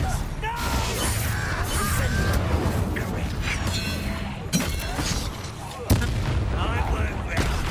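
Hogwarts Legacy spell combat featuring Expelliarmus, a dense continuous roar of magical blasts and crashing impacts with a couple of sharp hits, loud and close, with voices talking over the action.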